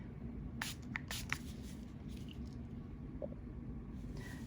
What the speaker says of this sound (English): Solar Speed Spray, it quickens the dry time. So we just give it a nice spray.